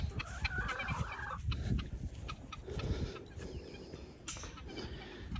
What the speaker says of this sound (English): Off to feed the chickens.